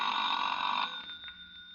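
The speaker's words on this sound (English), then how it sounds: "That's the phone." A telephone bell rings steadily for under a second, then cuts off, leaving faint room noise in an old radio drama scene.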